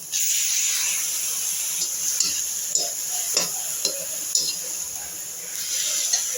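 Tomatoes hit a hot pan already frying green chilli, curry leaves, ginger and garlic for a palak potato gravy. A steady loud sizzle and hiss runs throughout, broken by a few soft stirring knocks.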